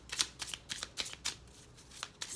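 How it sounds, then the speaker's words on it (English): Tarot cards being shuffled by hand, a quick run of crisp riffling bursts repeating in an uneven rhythm, close and fairly quiet, with no voice. "So while I shuffle and cards pop out"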